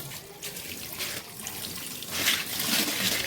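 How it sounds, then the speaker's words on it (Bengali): Tap water runs steadily as a crab is rinsed in a sink, a close, fairly soft splashing and trickling stream that grows a little fuller toward the end, with no voices. "এখন কাঁকড়াটাকে আমি ধুয়ে নিচ্ছি একটু ভালো করে"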